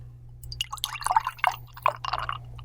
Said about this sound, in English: let me get a little bit better pour sound for everyone